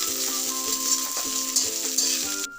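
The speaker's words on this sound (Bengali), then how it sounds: "দিয়ে দিলাম পেঁয়াজ কুচি এবং কাঁচা লঙ্কা চিড়ে। এটাকে একটু ভাজতে হবে" Chopped onion and slit green chili fry in oil for a spicy Bengali greens curry, giving a steady close sizzle broken by regular scraping stirs.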